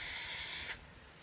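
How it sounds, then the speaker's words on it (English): A can of adhesive spray hisses in one steady, close burst onto a base during a thrift-store makeover, then cuts off abruptly, leaving near silence. "spray the base"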